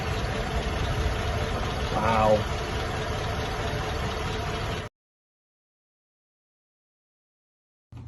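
A car engine with a 4L60E transmission stuck in second gear idles at operating temperature with a low steady rumble for several seconds, with a brief spoken exclamation over it, then cuts to silence.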